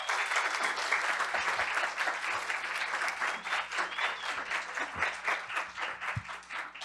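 An audience applauds steadily, many hands clapping at moderate volume with a slightly uneven rhythm, tapering a little near the end.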